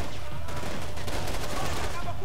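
Dense bursts of gunfire from a Max Payne 3 shootout against Brazilian militia fighters, sharp shots crackling in quick, overlapping volleys at constant loud volume.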